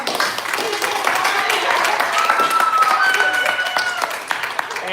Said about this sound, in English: one more round of applause for Kikashima.